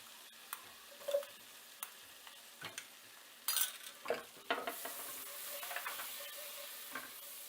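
Chopped onion frying in a pan for white sauce pasta gives a faint sizzle broken by several sharp scrapes and clicks of stirring, intermittent and close, with a louder hiss toward the end.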